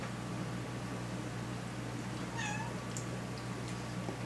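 A house cat gives a single short meow at mid-distance over a steady background hum, with no talking in between.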